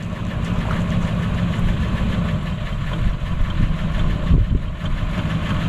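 A Land Rover Discovery 1 engine idles roughly and close by, its uneven low chug wavering with light throttle blips that keep the revs from dropping.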